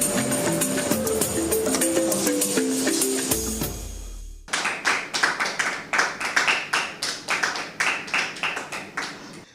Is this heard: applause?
yes